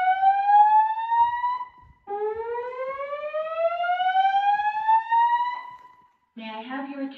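A first-generation LED fire alarm sounds loud and close, each tone rising in pitch, with a short gap between sweeps. A different pulsing alarm tone cuts in at the end.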